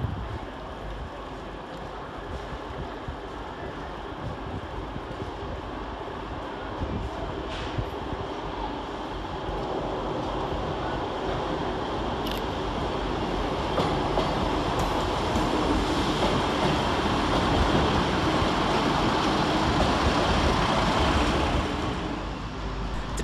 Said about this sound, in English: Departed next for East Midlands Railway is 158770, working the 1427 East Midlands Railway service from Grimsby Town to Leicester